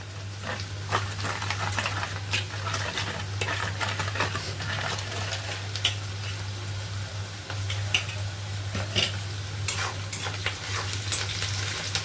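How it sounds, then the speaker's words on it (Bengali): Onions sizzle steadily in a hot pan while a spatula stirs and scrapes now and then; close by, no voices. "পেঁয়াজটা ভাজা ভাজা হয়ে গেছে,"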